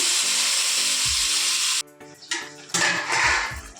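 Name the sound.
mutton added to hot oil with bay leaf and spices, sizzling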